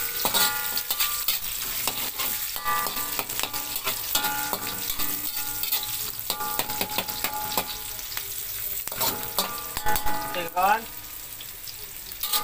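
Garlic, chili and anchovies fry in a pan for a mustard greens stir-fry, a steady dense sizzle running throughout with scraping utensil clatter and clinks scattered over it, close and continuous.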